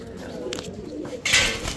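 A Pakistani fancy pigeon, of the Rampuri, Kaldom, Gorra or racer breeds sold by a dealer, coos in low, soft murmurs over a steady background hum, with a brief hissing burst partway through.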